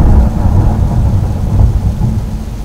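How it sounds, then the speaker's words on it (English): Loud, heavy thunder rolls on continuously, a deep, sustained rumble with rain-like wash and no voices over it. "Sorry about the thunder."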